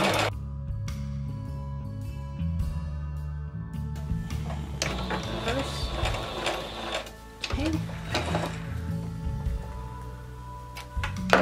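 A sewing machine runs steadily while stitching a waistline casing on small doll clothes, its motor whirring and needle ticking in an even rhythm under faint background sounds.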